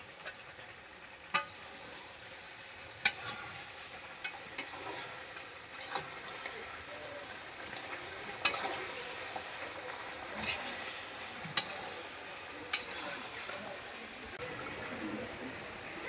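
Fish heads fry in spiced oil in a village kitchen, a steady soft sizzle broken by occasional scrapes and clinks of stirring, close and moderate in level.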